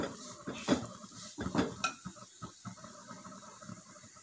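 Chilli powder masala is stirred in a pan for an anchovy fish pickle, a spoon scraping and clinking against the metal in a few quick knocks, then softer scraping, close and fairly quiet.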